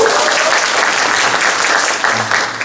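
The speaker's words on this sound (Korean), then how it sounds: "박수 한번 줘야 되는 거 아니에요?" Audience applause at a Korean talk or lecture, dense and loud steady clapping from a crowd filling the whole short stretch, with no voices over it.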